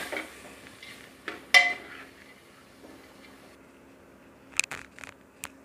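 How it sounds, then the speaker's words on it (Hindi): Tomatoes and green chilies being stirred in a cooking pan, with a few sparse scrapes and clinks of a utensil against the pan, quiet and intermittent, one sharper clatter early and a cluster near the end. "अब टमाटर और हरी मिर्ची को अच्छे से हिलाकर पका लेंगे।"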